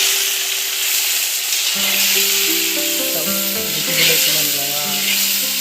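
Meat frying with browned onions in a pan gives a constant loud sizzle, overlaid by steady tonal notes. A voice briefly speaks.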